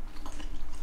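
Close, quiet crunching as someone bites and chews the crisp baked top of oat-milk mac and cheese, a short burst of soft crackling chews.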